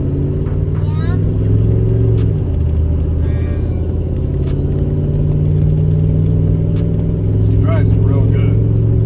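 A car with a 4L60E automatic transmission cruising in Drive rather than overdrive, a steady droning engine and road hum with a shift in pitch partway through, heard from inside the cabin.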